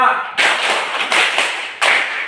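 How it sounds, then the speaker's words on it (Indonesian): A group at a church gathering claps in a counted pattern, sounding as several loud, sharp bursts of many hands at irregular intervals with a dense patter between them. "tepuk 1, tepuk 2, tepuk 3, tepuk 4, tepuk 5"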